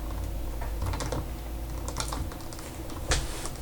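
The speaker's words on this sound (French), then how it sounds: "Donc, je joue au clavier." Keyboard keys clatter in quick irregular bursts while someone drives in Euro Truck Simulator 2, close and steady, with a sharper louder strike near the end and no talking.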